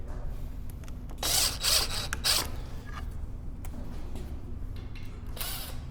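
A power drill pre-drills a screw hole in a wooden chair back slat lying on a table, giving a few short whirring bursts over steady low background noise.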